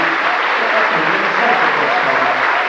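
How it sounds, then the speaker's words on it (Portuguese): An audience claps in a steady, dense wash of applause that holds at an even, fairly loud level throughout, with voices mixed in underneath. "Pode dar uma salva de palmas para ele."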